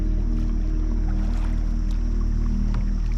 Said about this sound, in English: So right now I'm just watching Emily paddle